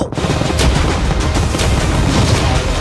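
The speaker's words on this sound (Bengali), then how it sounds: "ক্যানন গুলো ফায়ার করো" Cannons fire at a yacht in a heavy barrage, a continuous loud roar of overlapping booms and blasts that fills the whole stretch without a break.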